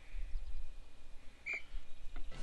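A short referee-style whistle blast in the Harry Potter and the Sorcerer's Stone video game, heard once as a single brief, clear tone against low background game noise.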